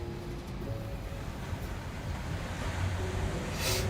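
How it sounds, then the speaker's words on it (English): Ocean waves break on Malibu beach in Los Angeles, California: a steady, fairly faint surf wash with wind noise on the microphone, swelling slightly toward the end, with no voices. "Can you guys still hear the waves?"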